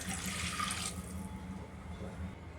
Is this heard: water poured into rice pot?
yes